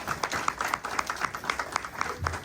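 A live concert audience applauds the vocalist, a moderately sized crowd clapping in a lively, slightly uneven patter with some crisp nearby claps standing out.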